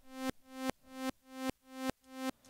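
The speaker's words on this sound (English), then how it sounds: "Now the sidechain should be fully functional and it should sound something like this" Sidechain pumping effect built with Volumeshaper 5 in Ableton Live: a sustained synth chord repeatedly ducks and swells back in a steady rhythm, punctuated by sharp kick-like hits about every 0.4 seconds.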